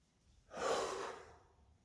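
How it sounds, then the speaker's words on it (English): A single deep breath in during a breathing exercise, a soft airy inhale close to the microphone lasting about a second, with no talking. "So we're starting with a deep breath in."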